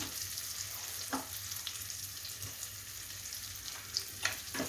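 Turmeric and red masala powder sautéing in a pan for a drumstick (moringa pod) curry, giving a steady low sizzle with a few soft stirring clicks and scrapes, no talking.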